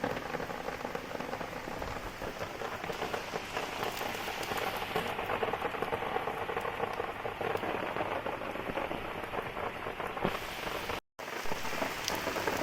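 Heavy rain pours steadily on surfaces outdoors during a downpour, a dense continuous hiss with scattered drop impacts close by, broken by a brief dropout near the end.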